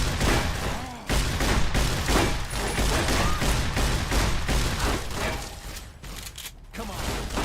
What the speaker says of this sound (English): Nothing like shooting them when they're down.